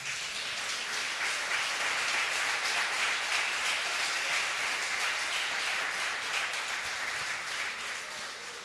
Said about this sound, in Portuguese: Se você crê nisso, aplauda ao Senhor.